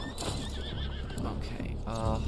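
A horse in the Red Dead Online video game neighs and whinnies loudly across the whole stretch, with hoof clip-clop and faint game ambience mixed in.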